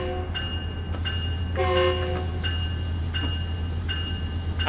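At a railroad crossing in Train Sim World 6, a Long Island Rail Road diesel train sounds several horn blasts, short and longer in a repeating pattern, over a constant low engine drone.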